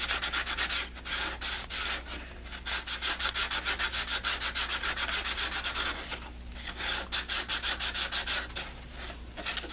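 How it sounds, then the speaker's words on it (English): Close, rhythmic rasping as the edge of a Rockford speaker cone is scuffed for a recone, quick repeated rubbing strokes in bursts with short pauses between them. "it looks like we've got a pretty good scuff going around here"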